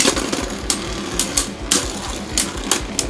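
Beyblade Burst tops spinning and colliding in a battle stadium, with a steady whirring buzz and repeated sharp clacks as the tops strike each other and the walls.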